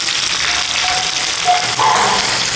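A tempering of cumin, mustard seeds, chana dal, green and dried red chillies and turmeric sizzles steadily in hot oil, a close, loud, continuous crackle with brief louder bursts and no talking.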